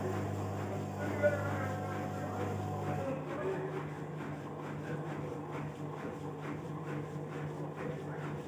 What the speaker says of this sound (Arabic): طبعا الصوت ده هو صوت ضخ الترومب اصلا.